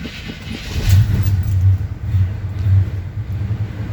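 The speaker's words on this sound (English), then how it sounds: "Normally this truck starts pretty easy even though it's been sitting." An old 1975 Chevy C10 pickup engine cold starts after sitting, cranking and catching, then settling into a rough, low idle with uneven rumbling pulses close by.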